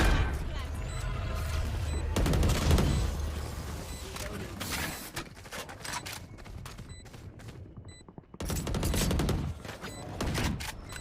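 Rapid bursts of gunfire in a first-person video game, rounds wallbanging through metal, firing in several loud volleys with short pauses between them.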